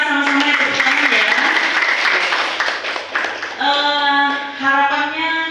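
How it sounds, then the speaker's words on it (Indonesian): Audience at a school talk show event clapping in thanks, a loud burst of applause in a hall that overlaps with background music and a voice, then tapers as music continues. "Kita beri ucapan terima kasih ya sama-sama ya, tepuk tangan ya"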